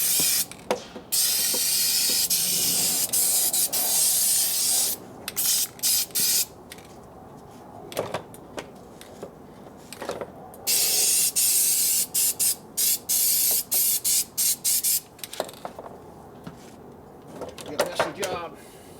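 Bursts of compressed air and spray paint hiss between the cooling fins of a 1972 Harley Sportster ironhead engine, loud and close, in repeated on-off blasts with short gaps.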